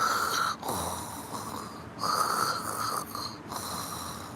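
A person fakes snoring with their voice, producing three or four drawn-out, nasal, rattling snore imitations separated by brief pauses.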